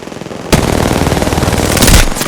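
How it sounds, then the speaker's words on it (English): Rapid automatic gunfire in a first-person shooter video game bursts in after a half-second of near silence and rattles on loudly and continuously, with a heavier blast near the end. "I got shot in the back."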